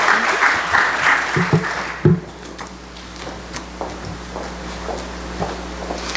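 An audience at a lecture on Deaf histories in Texas applauds to welcome a speaker to the stage, starting as a full wash of clapping that quickly thins to scattered claps and room noise.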